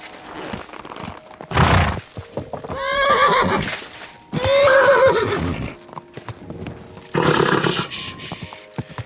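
A horse in the video game Kingdom Come Deliverance 2 neighs and whinnies loudly several times at close range, with snorting bursts and hoof clip-clop between the calls.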